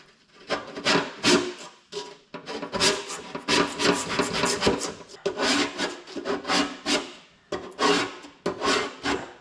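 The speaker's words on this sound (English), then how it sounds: "just take the scraper, the razor blade scraper that is, and just, you know, start scraping on, you know, this flat surface" A razor blade scraper scrapes old carpet glue off a flat boat surface in repeated rasping strokes, close and loud, with short pauses between bursts.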